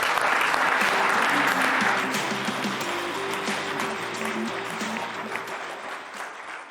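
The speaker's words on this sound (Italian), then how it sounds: "allora un applauso al CSI." Studio audience applause on an Italian sports television program, loud sustained clapping that gradually fades, with low musical tones playing underneath.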